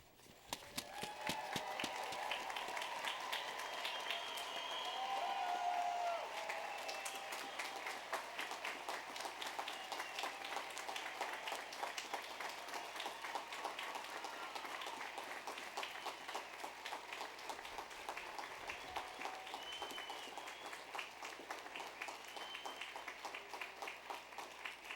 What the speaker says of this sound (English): give the Hamline University class of 2012 the biggest, loudest, most profound round of applause you can muster